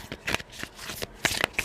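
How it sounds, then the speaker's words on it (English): Thick self-care oracle cards are shuffled by hand in a series of crisp, close riffling bursts, several quick flicks separated by brief pauses, with no speech over them. "These ones are a bit hard to shuffle. They're very thick."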